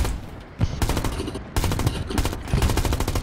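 Rapid, close gunfire in the WW2 video game Hell Let Loose, with dense bursts of automatic shots and a few short pauses between them.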